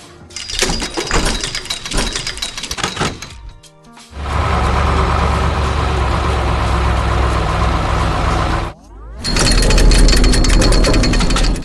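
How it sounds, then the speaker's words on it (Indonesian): A heavy excavator using its grab to lift and move a tractor at a construction site: loud, steady diesel engine roar with rattling and hammering clanks, briefly dropping away twice before the machine surges again, close and continuous. "Lihat ekskavator itu. Dia menggunakan kepitnya untuk memindahkan traktor dengan sangat mudah."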